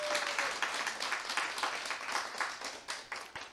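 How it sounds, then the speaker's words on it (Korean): Crowd applause filling a packed lecture hall at a business seminar, dense steady clapping sustained throughout with no speech over it. "큰 박수 부탁드립니다."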